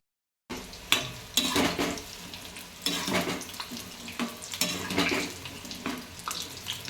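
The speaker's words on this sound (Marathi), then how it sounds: "इकडे इकडे भजा फ्राय करते" Bhaji fry in hot oil in a home kitchen, a soft bubbling sizzle that starts after a brief silence and swells in waves as the pieces are stirred and moved, with no talking.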